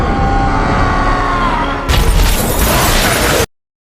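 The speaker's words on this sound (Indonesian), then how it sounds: "Thor berhasil memutuskan jembatan, namun ia dan Loki terlempar karena ledakan yang dahsyat" Film explosion as Thor smashes the Bifrost bridge with his hammer: a rumbling build of energy, then a sudden loud blast that roars for over a second before cutting off abruptly.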